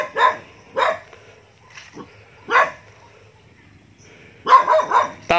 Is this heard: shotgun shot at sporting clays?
no